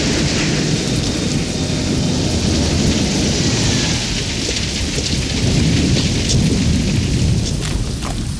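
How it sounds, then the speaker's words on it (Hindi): Heavy rain with thunder: a dense, loud, continuous downpour hissing on surfaces, with deep rolling thunder rumbling underneath throughout and no voices. "बारिश हो रही है ना"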